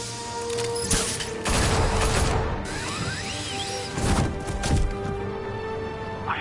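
Gunfire erupts in a Batman video game set in Gotham: several sharp, heavy bursts of shots come close and loud, separated by whooshing and mechanical clatter.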